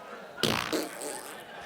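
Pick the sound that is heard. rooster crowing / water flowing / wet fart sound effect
wet fart sound effect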